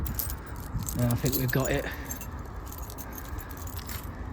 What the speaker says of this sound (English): Let's try to find which one of these keys open this door